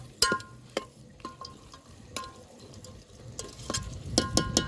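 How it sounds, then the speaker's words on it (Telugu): Vegetable rice being stirred in a pan, with scattered scrapes and clinks of the spoon against metal over a soft frying sizzle, busier toward the end. "ఒక్కసారి కలుపుకుందామండి"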